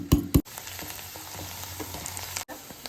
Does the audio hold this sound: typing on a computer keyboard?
no